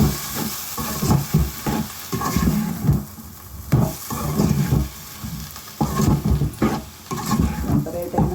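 Chopped tomato pieces go into a frying pan for a raw banana and tamarind curry and sizzle loudly. Scraping stirs and occasional clunks cut through the steady hiss.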